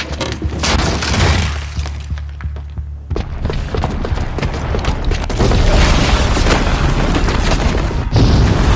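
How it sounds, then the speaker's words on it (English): A booby-trapped bomb blowing up in the game Horizon Zero Dawn, a heavy, loud booming blast followed by rumbling debris, crashing and breaking noises that continue for several seconds. "the booby trap on the bomb downstairs is gonna get set off"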